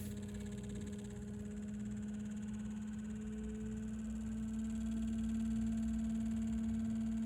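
A Minn Kota PowerDrive electric trolling motor runs with a steady, continuous hum and whine, its pitch rising slightly and gaining a little volume partway through, heard alone at close range with no talking.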